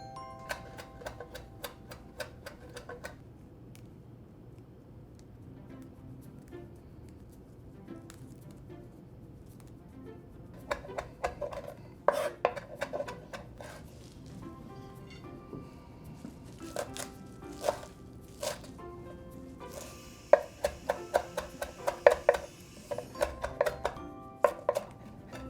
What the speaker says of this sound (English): chop finely 2 tablespoons of chives, 2 tablespoons of these tarragon leaves, and 4 tablespoons of the leaves of the flat leaf parsley